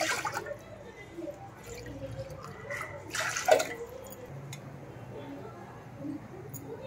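Water is poured from a small bowl into a pot to make rice-flour dough, a brief splashy pour and a few drips amid quiet kitchen sounds, with someone talking nearby.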